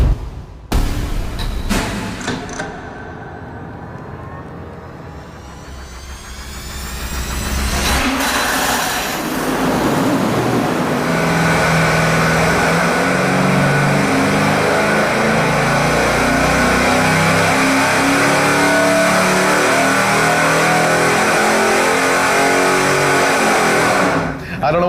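A 350-horsepower engine cranking and firing up, then revving and holding a loud, steady roar through test mufflers on a dyno, with voices audible over the engine.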